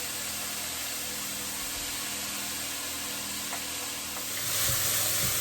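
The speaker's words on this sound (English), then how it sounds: "keep stirring this and frying it off until it gets nice and soft" A constant soft sizzle of onions, ginger, chilli and garlic frying in a pan, steady and fairly quiet, with a slight rise near the end.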